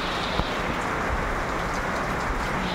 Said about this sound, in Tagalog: Ayan, maulan na naman.